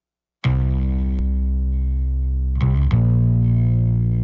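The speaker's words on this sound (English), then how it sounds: "The final thing is the bass guitar. And for this, I'm mostly using this as a distortion machine." A sustained, heavily distorted bass guitar note, loud and buzzing, with a second attack partway through as the note is restruck; the distortion comes from a Vertigo Sound VSS-2 channel strip plugin.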